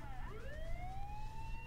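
Ambulance siren in the Saints Row 3 video game, a continuous rising wail sounding loud and close over steady engine and traffic rumble.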